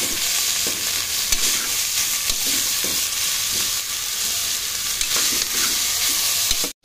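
Chopped vegetables for veg biryani, including beans, carrot, capsicum, potato and tomato, fry in a pan under a steady loud sizzle, with irregular soft scrapes and knocks of stirring throughout.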